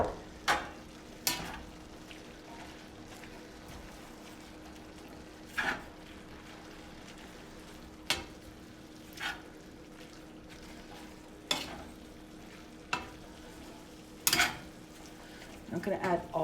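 Beef fries in a pan with a faint, steady sizzle while spinach is stirred in. Sharp scrapes and clinks of the utensil against the pan come at irregular intervals over the background hiss.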